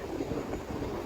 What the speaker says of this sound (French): Ah non, c'est un train